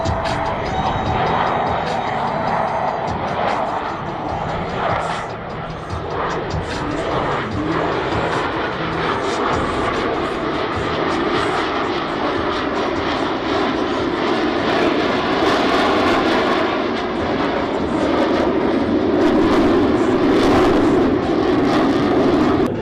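Blue Angels jets fly a high alpha pass at the Lincoln airshow, their loud roaring engines swelling and sustained across the whole stretch, building to a heavy thunder near the end.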